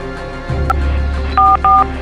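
Telephone keypad dialing tones ring out as a number is entered, two clear steady beeps following a low hum and a short click, close and loud.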